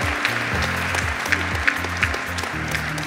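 An audience at a conference round table claps loudly and continuously, a dense steady applause filling the room, with a low voice and tonal sounds underneath.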